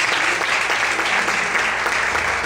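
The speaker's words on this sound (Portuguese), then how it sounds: "Bem forte as palmas." Loud, sustained clapping from a church congregation at a worship service, thick and continuous from start to finish over a low background tone.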